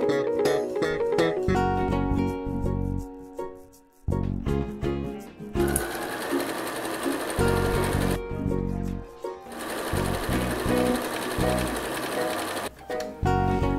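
Sewing machine stitching pieces of a quilted bed runner, running in steady bursts with short pauses between runs, close and loud, with brief hand handling sounds in the gaps.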